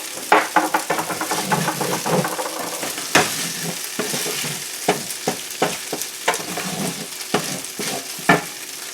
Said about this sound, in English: I'll give this another stir